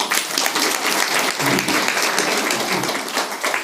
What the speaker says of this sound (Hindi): इन खातर ताली बजाओ।